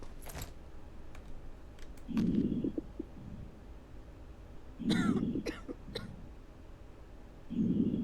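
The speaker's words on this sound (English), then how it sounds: "You got some coughing going on." A patient in the video game Quarantine Zone: The Last Check coughs in three heavy, muffled bursts spaced a few seconds apart, with faint clicks and a low background hum between them.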